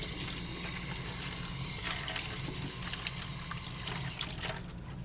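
Hands being washed under a running kitchen tap, a steady hissing stream of water with small splashes throughout, close and continuous, with no talking.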